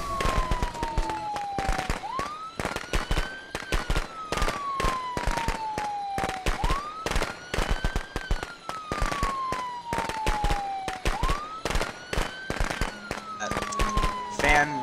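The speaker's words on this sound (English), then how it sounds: "I'll throw fireworks. Fireworks down." Fireworks thrown in the video game Friday the 13th crackle and pop in rapid, irregular bursts. A wailing, siren-like whistle rises and falls repeatedly behind the crackling, and the whole scene stays fairly quiet.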